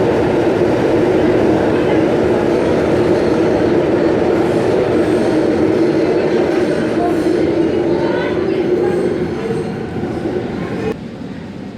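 A Sydney Metro train running at speed, a steady loud rumble of wheels on track with a faint rhythmic click, easing slightly near the end.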